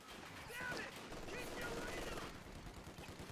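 Machine gun fire in Company of Heroes 2, an MG team caught in the open, rattling in a dense sustained burst amid the thick din of battle, with a commentator talking over it.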